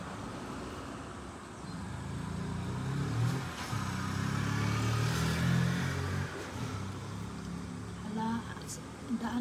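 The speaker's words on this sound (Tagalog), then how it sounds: "Daan kayo mga motor, lakasan yon hanggat sa gusto nyo." Motorcycles on a road nearby in Japan, engines swelling louder through the middle and then fading as they pass, with a voice talking over the traffic.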